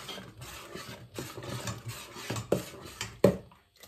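Sugar is stirred into ginataan bilo bilo in a pot, a soft scraping and rubbing of a utensil against the pot with a few sharper clinks toward the end, close and fairly quiet.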